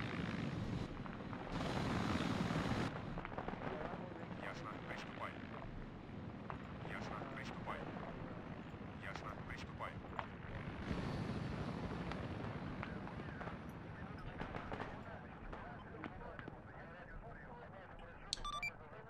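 Mi-8 helicopters approach in an Arma 3 battle, a low rotor and engine drone running under distant gunfire clatter and bursts. Players talk over radio throughout.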